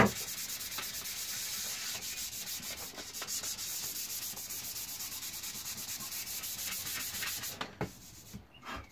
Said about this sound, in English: you can keep sanding, because this is literally just excess filler